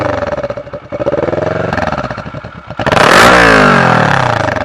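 A Kawasaki ER6F motorcycle fitted with a Black Widow exhaust revs loudly close by, its engine note rising and clattering through several throttle blips before a harder, sustained roar takes over.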